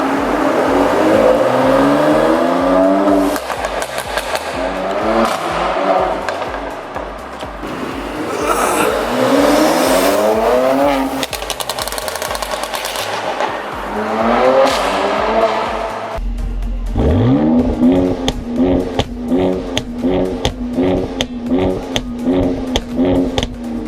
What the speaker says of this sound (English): I asked them to add some more pops to the car